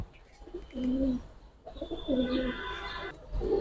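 Old-breed pigeons, Giribaz and coloured types, coo at a pigeon market in two close, repeated bursts of soft throaty calls with a brief pause between, and no voices in the way.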